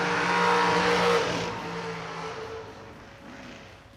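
A dragster race car at a drag strip with a loud engine roar that swells early, then recedes and fades as it passes and moves away.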